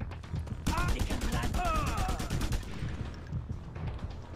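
Rapid gunfire from Just Cause 2 rattles in a dense, loud burst of regular shots lasting a couple of seconds and then trails into game noise, with a voice partly overlapping.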